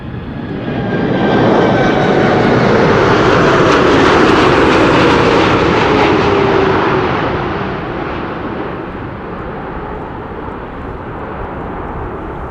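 An airliner arrives at Amsterdam Schiphol Airport on a windy day, its loud engine roar swelling as it passes close overhead, then fading into a lower rumble.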